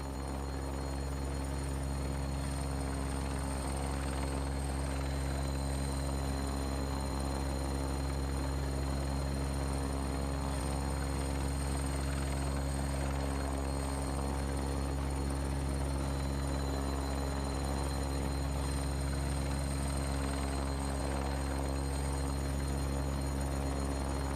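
Steady helicopter rotor and turbine drone from a flight simulator as the aircraft settles onto a dolly landing pad, a continuous loud hum with constant low thrum and high whine, no talk.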